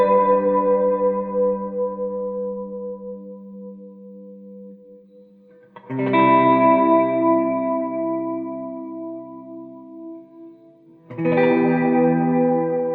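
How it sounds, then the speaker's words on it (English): Sustained electric guitar chords drenched in reverb from the MI.MU Jellyfish sample: three strummed chords, each ringing out and slowly decaying before the next, loud and close with a washy, chorus-like shimmer and no talking. "It's basically just some guitar chords with some reverb on it."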